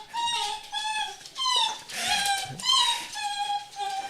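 Minton the dog whimpers and cries in high, wavering whines, repeated in bursts over about four seconds, fairly close and alone with no talk.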